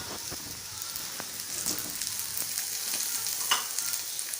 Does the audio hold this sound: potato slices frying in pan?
yes